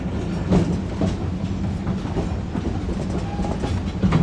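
Sugar Pine Railroad train number 10 rolls steadily on mountain tracks near Yosemite, drifting downhill with rhythmic clickety-clack wheel beats and a low rumble, heard up close from aboard with no talk.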